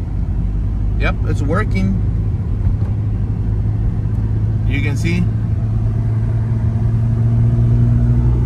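A Volkswagen Mk4 runs on cruise control with a steady low engine rumble throughout, while someone talks briefly over it near the start and again midway.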